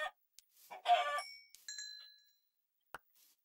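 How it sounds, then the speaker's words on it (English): Chickens in a modded Minecraft game, a few short clucking calls close by with bright chiming tones, followed by a brief click, no talking. "Here's some chickens."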